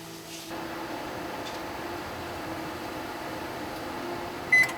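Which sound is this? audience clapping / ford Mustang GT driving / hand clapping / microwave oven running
microwave oven running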